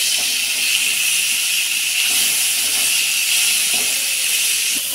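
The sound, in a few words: potatoes frying in a pan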